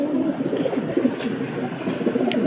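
A pair of Kalanka pigeons, male and female, give soft, rolling coos in a quick series, close and clear against a quiet background.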